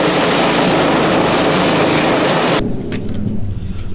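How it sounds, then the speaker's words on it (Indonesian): Red toy helicopter giving a loud, continuous whirring, buzzing rotor drone that cuts off abruptly partway through, leaving faint clicks and background noise. "ada mainan helikopter warna merah teman-teman"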